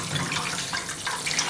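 Cold water pours from a tap in a constant, close, fairly loud splashing stream, with no talking over it.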